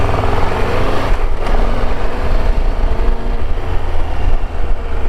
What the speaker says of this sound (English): So I'm quite keen to just jump on the bike and ride it